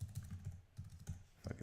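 Keys tapped on a computer keyboard in a quick, uneven run of soft clicks, close and fairly quiet, with short pauses between bursts.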